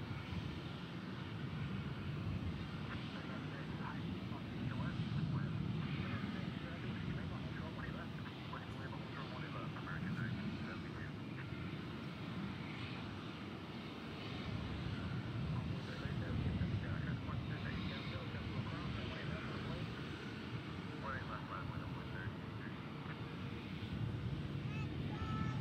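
An airliner lines up on runway 18 Left at DFW airport, its engines a steady, distant broadband rumble mixed with wind noise, and voices talk over it throughout.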